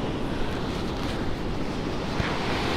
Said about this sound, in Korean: 파도 소리가 오늘따라 정말 시원하게 들립니다.